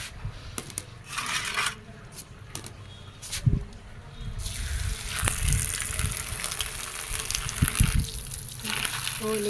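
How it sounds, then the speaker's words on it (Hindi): Tap water gushes steadily over leaves being rinsed under a faucet, with clinks and splashes in the first half before the flow grows louder and fuller, a voice talking briefly in the background. "चलिए इसे नल से धो लेते हैं।"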